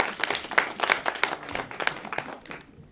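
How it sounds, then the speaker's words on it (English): An audience at an African Union Expo contest claps for a judge being introduced: a brief burst of scattered applause with distinct individual claps that thins and fades out within a few seconds. "Please give him a round of applause."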